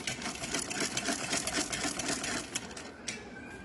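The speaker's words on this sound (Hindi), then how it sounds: "पीछे की तरफ से हमारा जो मार्जिन आएगा उसमें हम सिलाई मारेंगे" A sewing machine stitches a small dress for a Bal Gopal deity doll, a dense, continuous rapid rattle running close and fairly loud throughout, easing slightly near the end, with no talk.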